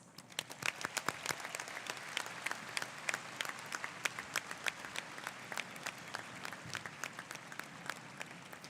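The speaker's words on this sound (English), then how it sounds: "please recognize both classes with your applause" A high school commencement crowd applauds the graduating classes, a distant, fairly quiet wash of many hands with sharper individual claps standing out in an irregular rhythm throughout.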